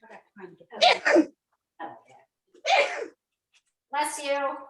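Several quick sneezes burst out close by, spaced unevenly over a few seconds in an indoor kitchen.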